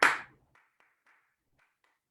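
One loud, close hand clap that rings out briefly in a quiet room, followed by a run of very faint soft taps.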